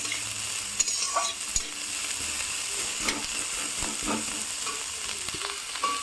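Onion fries in a pan with a little green chilli, a soft steady sizzle punctuated by scattered clicks and scrapes of a spatula stirring, close by and without talk.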